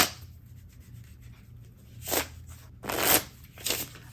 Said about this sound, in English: we will put the 10 of Hearts back in the deck and shuffle for draw number 2